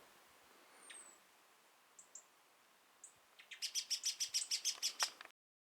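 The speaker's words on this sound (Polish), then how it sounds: "Jak pięknie ptaszki śpiewają." A small bird sings nearby in spring in the Bystrzyckie Mountains of Poland: a few thin whistles, then a rapid series of bright, evenly spaced chirps, clear against a quiet background.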